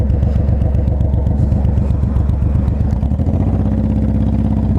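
Honda VTX1800 motorcycle ridden through St. Louis streets, its big V-twin engine throbbing loud and close in a steady pulsing beat, shifting to a slightly different rhythm near the end, with no talk.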